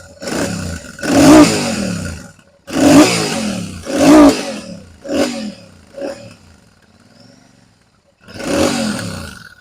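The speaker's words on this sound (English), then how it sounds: "I'll just start it up for you quickly so you can hear the exhaust notes." A Royal Enfield Super Meteor 650 motorcycle on its stock exhaust revs in several loud, close throaty bursts, each rising and falling back to a deep burble, with brief quieter idle gaps between blips.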